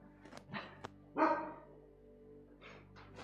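A guard dog barks a few times nearby, short separate woofs with one louder bark in the middle and quieter ones after it, with no talking over them.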